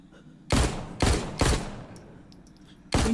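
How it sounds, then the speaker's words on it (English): Pistol shots in the VR video game The Walking Dead Onslaught, four loud, sharp single shots, three in quick succession and a fourth after a pause. "Steady the pistol and take a shot at those walkers."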